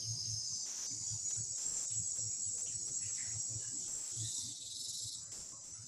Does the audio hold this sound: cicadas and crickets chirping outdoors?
yes